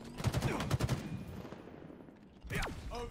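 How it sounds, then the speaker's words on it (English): Sniper rifle shot in the video game Halo Infinite, set during a multiplayer match. It comes with a cluster of rapid gunfire bursts early on, then a single sharp report with a ringing tail, over a faint game backdrop. "I sniped the kid on the flag."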